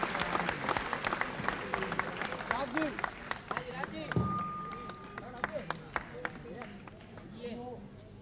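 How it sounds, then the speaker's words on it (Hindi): Applause from an audience welcoming a guest onto the stage at a Bollywood star event, with sharp clap bursts running throughout under a voice talking over them. "जोरदार तालियों से उनका स्वागत कीजिए"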